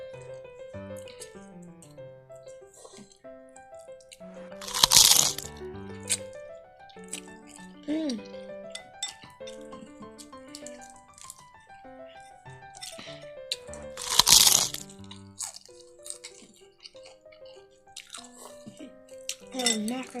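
Crisp fresh vegetables eaten with a large bowl of khanom chin rice noodles give two loud, close crunching bites several seconds apart, with softer chewing between them over tuneful background music.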